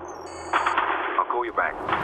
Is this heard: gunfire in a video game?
yes